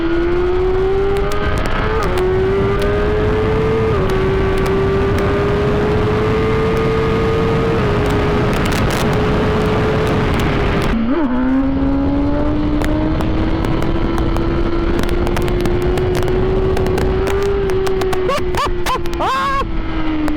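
BMW M 1000 R superbike (2023) accelerating hard on a racetrack, its engine note climbing steadily through the gears with brief shift breaks, loud and close from on board with constant wind rush and no talk.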